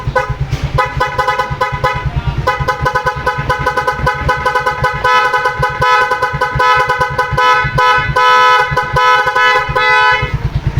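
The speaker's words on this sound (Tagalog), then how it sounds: "So ngayon magbubusina tayo." A Nhay 3 Pro eight-tone electronic car horn blares loud and continuous during a sound check, cycling through rapid pulsing melodic tones with a steady rhythmic stutter close to the microphone.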